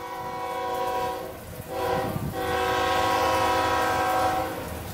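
A CSX GE Evolution (GEVO) locomotive pulling the Tropicana juice train blasts its loud multi-tone horn in two long sounds with a short gap, close by in the rain, while the train rumbles past.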